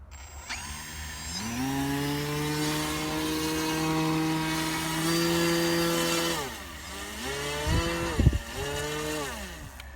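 Small electric motor and propeller of a DGA-6 model plane whining steadily during a hand launch, its pitch rising and holding before dipping, with a few sharp bumps near the end.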